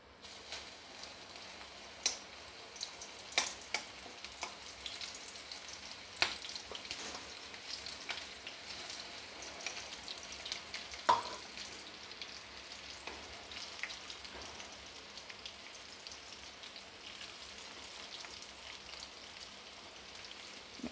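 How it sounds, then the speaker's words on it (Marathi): Okra fries in hot oil with a steady, soft sizzle and crackle throughout, broken by scattered louder pops and spits. "आता आपण याच्यात भेंडी फ्राय करायला टाकायचं आहे."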